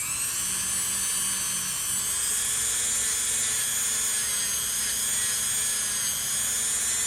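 A power sanding tool works polymer clay pieces in a steady high whine that holds without a break for several seconds, close and loud, with no talking over it.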